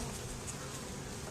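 Honeybees in an open beehive frame making a dense, steady buzzing drone, close and continuous with no other sounds.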